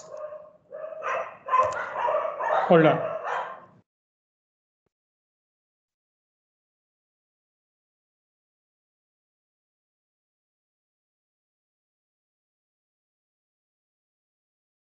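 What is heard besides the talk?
street dogs barking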